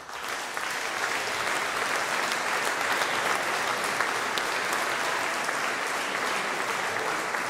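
A large audience claps in sustained, dense applause at a regional sports federation's 25th anniversary celebration, steady and loud for several seconds.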